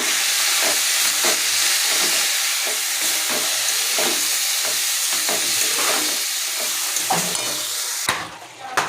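Spinach leaves fry in a pan with turmeric, a loud hissing sizzle broken by repeated stirring scrapes and rustles at an uneven rhythm, ending with a few sharper knocks; no talking.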